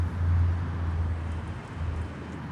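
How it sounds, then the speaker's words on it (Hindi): Continuous road traffic, with cars passing on a busy street behind someone standing outdoors, a loud low rumble throughout with a swelling pass early on. "आवाज़ भी नहीं आ रही होगी मेरे ढंग से क्योंकि पीछे गाड़ियों की आवाज़ बहुत ज़्यादा है।"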